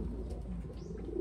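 Racing pigeons coo softly and steadily at close range during a derby race loft check, with low throaty murmurs running continuously through the moment and no other sounds on top.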